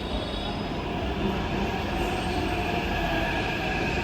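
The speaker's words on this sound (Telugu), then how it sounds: "మియాపూర్ మెట్రో స్టేషన్ కి అయితే వచ్చినాం" A metro train at Miyapur metro station in Hyderabad rumbles past with a loud, steady roar and a faint high wheel squeal, filling the whole stretch.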